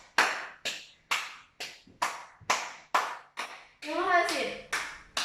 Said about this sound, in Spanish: quiero que todos me acompañen con sus aplausos